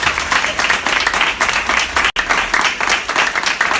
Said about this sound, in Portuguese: dê uma salva de palmas para Jesus. Bem forte para Jesus.